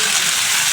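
Onion paste dropped into hot spices in a pan, giving a loud, dense, continuous hiss of sizzling oil at close range, with no talk.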